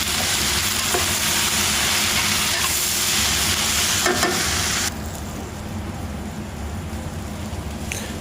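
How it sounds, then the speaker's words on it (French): Steady sizzling and crackling of onions frying in a cast-iron pot, loud and continuous, with a brief stir partway and the hiss dropping slightly afterward. "on va bien faire revenir tous nos oignons dedans"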